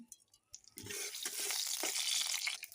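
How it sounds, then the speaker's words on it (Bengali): Nigella seeds and drumsticks hit hot oil with a loud, steady sizzle that rises sharply after a few quiet scraping taps, with occasional stirring scrapes in the pan. "এই তেল দিয়ে দিলাম হালকা করে, কালো জিরে দিয়ে দিলাম"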